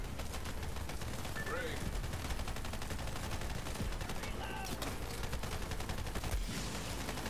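Rapid turret gunfire rattles through a Borderlands 3 firefight, a dense, continuous stream of shots mixed with other combat noise, steady in level throughout.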